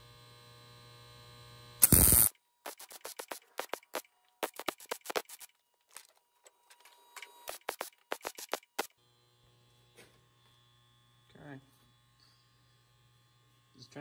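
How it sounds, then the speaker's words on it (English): Small tack welds laid on a steel part for a portable electric hydraulic unit at a workbench, heard as a series of short crackling buzzing bursts over a steady electrical hum, with quieter pauses between tacks. "Just trying to kind of keep the heat distortion down, so it's doing some smaller tacks instead of really laying it on."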